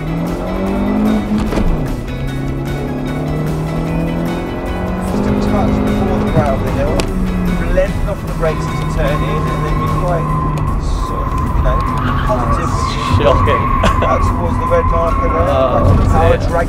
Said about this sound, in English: You get to drive this Kia Cee'd, which is identical to the reasonably priced car that was used in series 15 through to 19 of Top Gear